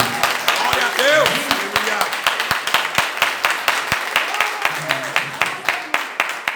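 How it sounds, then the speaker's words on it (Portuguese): A standing church congregation claps along at a Portuguese-language deliverance service, rhythmic hand claps steady throughout while voices sing and speak over them. "Vamos receber o irmão com as palmas"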